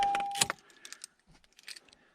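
An ignition key being turned off in a 2012-2016 Honda CR-V, a short jangle of keys on a ring with a faint click, close and brief, followed by light rattles.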